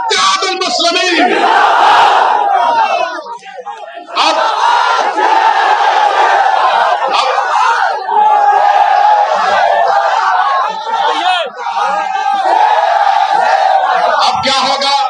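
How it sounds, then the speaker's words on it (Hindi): A large crowd at an AIMIM political rally in Uttar Pradesh chants slogans in unison, a loud, sustained roar of massed voices that runs almost without break, with only brief dips between shouted phrases. "अगर सच कहा तो नारा लगा हमारे साथ, नारे तकबीर, नारे तकबीर"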